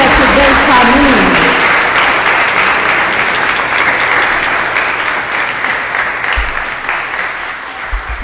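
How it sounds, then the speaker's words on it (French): A church congregation applauds a family during a Sunday service, sustained loud clapping that fills the room, with a voice speaking over it at the start. "Acclamons à nouveau encore cette belle famille."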